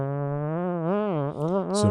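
A voice hums a droning, wavering buzz imitating lawn mowers, sustained and slightly fluctuating in pitch.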